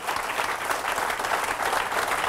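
Steady applause fills a motivational training hall in Mumbai, with many hands clapping at an even, sustained level and no pause.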